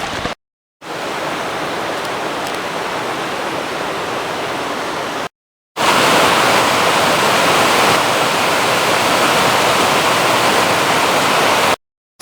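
A waterfall cascade on Roaring Run, a trail stream in Pennsylvania state game lands, gives a steady, loud, broadband rush of falling water, heard close with no voices, cut by two brief dropouts.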